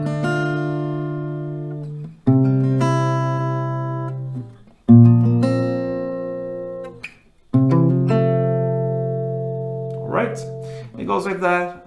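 Acoustic guitar picking a four-note pattern, four ringing arpeggiated rounds each starting with a firm attack and fading out, close and clear, with a little string noise at the end.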